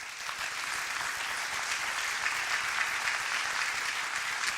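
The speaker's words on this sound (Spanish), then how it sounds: "Denle un fuerte aplauso al Señor." A congregation at a church event claps steadily, a full, sustained round of applause from a crowd with no speech over it.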